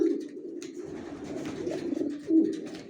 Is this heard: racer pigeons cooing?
yes